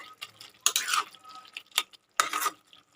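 Kachali fish curry stirred with a spatula in a pan: three sharp scraping, clattering strokes separated by short pauses, close and fairly clear.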